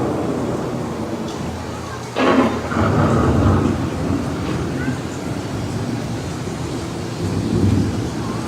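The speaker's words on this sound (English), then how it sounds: "The approaching storm may seem violent and destructive to us" Low rumbling thunder of an approaching storm rolls through steady rain and wind, with a louder swell of rumble midway, set within an indoor theme-park ride scene.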